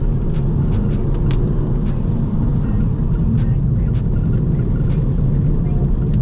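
A 2006 Volvo V50 T5 with all-wheel drive and a six-speed manual gearbox pulls hard on a test drive, a dense, steady engine and road roar heard from inside the car with scattered clicks and rattles.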